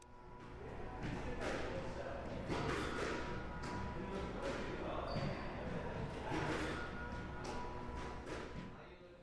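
A squash cannon ball machine feeds serves on a squash court while a player practises returns from the short line; balls thud and bounce repeatedly in an irregular rhythm under a voice talking throughout.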